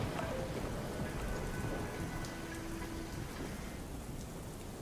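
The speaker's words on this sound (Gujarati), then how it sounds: "જૂનાગઢ શહેર, જૂનાગઢ જિલ્લા અને ગિરનાર પર્વત ઉપર જે છે તે ભારે વરસાદ વરસી રહ્યો છે।" Heavy rain pours steadily on Girnar mountain near Junagadh, a dense continuous hiss that stays even throughout with no voices.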